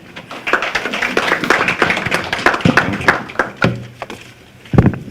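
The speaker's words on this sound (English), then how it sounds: "Let's applaud him." A conference audience at a research repository launch claps in sustained applause, a dense patter of many hands with a few louder, nearer claps and thumps, fading toward the end.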